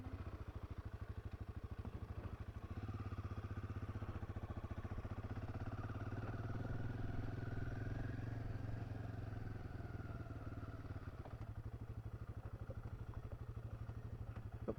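Royal Enfield Himalayan 450 adventure motorcycle running, a steady low engine drone with pulsing rumble and some clatter, heard as from the rider's position at moderate level throughout.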